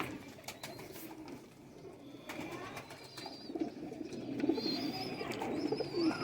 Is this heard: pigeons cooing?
yes